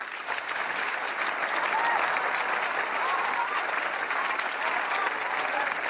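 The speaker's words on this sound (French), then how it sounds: "Je vous demande d'applaudir Monsieur Coluche." A live audience applauds the comedian Coluche, dense sustained clapping from a large crowd holding steady at full volume for the whole stretch.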